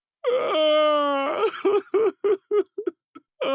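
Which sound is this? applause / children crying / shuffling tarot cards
children crying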